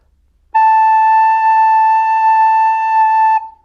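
A single steady recorder note, A, rings out clear and pure for about three seconds, holding one pitch before stopping.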